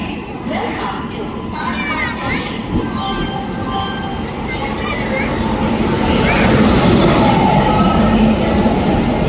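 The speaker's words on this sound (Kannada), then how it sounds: "ಇವಾಗ ನಮ್ಮ ಟ್ರೈನು ಪ್ಲ್ಯಾಟ್ಫಾರ್ಮ್ ನಂಬರ್ 5ಗೆ ಎಂಟ್ರ್ ಆಗ್ತಿದೆ" The 12863 Ernakulam SMVT–Bengaluru Weekly Superfast Express rolls into platform 5 with a continuous rumble and wheel clatter. The noise grows louder toward the end, and station chatter and voices mix in.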